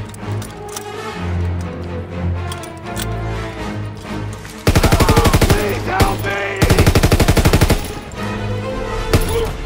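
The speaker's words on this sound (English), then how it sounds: "There's an MG right here." Heavy machine gun in a WW2 combat video game, fired in two long sustained bursts of rapid loud shots midway through, with battle noise and music underneath before and between.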